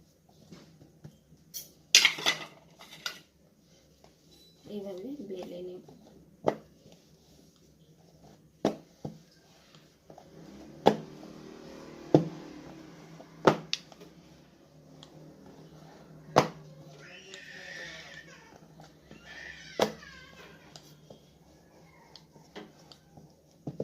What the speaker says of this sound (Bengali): আর প্রথমে আটাটাকে আমি বেলে নেবো